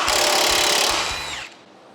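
An impact wrench fitted with an impact socket hammers at a bolt on a DIY truck flatbed build, a loud rapid rattling burst that cuts off abruptly at the end.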